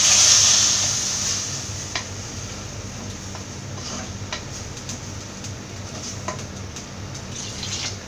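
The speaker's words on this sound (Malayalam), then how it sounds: "ഇനി ഇതിലേക്ക് വെള്ളം ഒഴിച്ചു കൊടുക്കാം." Water pours into a pot of Kerala-style fish head curry, a strong splashing rush at first that settles into a steady lower trickle with occasional small drips and clinks, close by, no talking.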